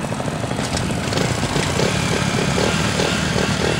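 A motorcycle riding through a bend, a loud, continuous engine drone with a slightly pulsing, uneven texture, heard close and alone without talking.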